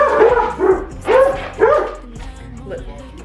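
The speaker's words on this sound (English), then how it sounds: "Everybody see you barking." A dog barks several times in quick, uneven bursts close by, with yippy, whiny edges to some barks.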